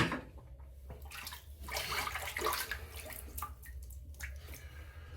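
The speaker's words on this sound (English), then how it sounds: "Wet the face just one more time." Water splashes and drips as a face is wetted during a wet shave with Cloud Shave Starstorm soap, in soft irregular bursts of hand-scooped splashing close by over a low hum, with no talking.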